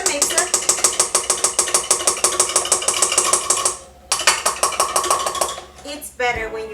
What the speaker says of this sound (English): And now we're going to add our cream cheese to the mixer.